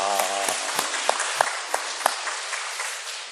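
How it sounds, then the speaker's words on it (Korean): A church congregation at a Sunday worship service gives a short round of clapping, with a few distinct individual claps standing out over a fairly sparse, moderate patter. "우리 그런 마음으로 우리 제2남선교회 축복하며 한번 박수하겠습니다."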